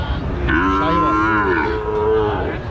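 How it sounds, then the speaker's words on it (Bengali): Sahiwal cattle at a weekly livestock market in Jaipurhat: a loud, close, drawn-out moo rising and falling over about two seconds, alone without talk. "সাইওয়াল গরু দুটা খুব সুন্দর।"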